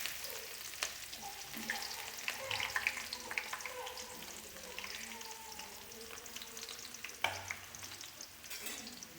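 Chopped onions fry in a mustard-seed tempering for tomato saaru and give a soft, continuous sizzle. Light stirring scrapes and faint clicks sit on top, quiet and close.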